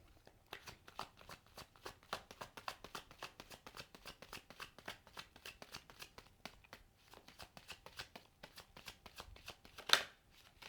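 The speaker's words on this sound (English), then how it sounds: "That's just me being terrible at shuffling again." A long, steady riffle of playing cards, dense rapid clicking for several seconds with a brief pause, ending on a sharp tap.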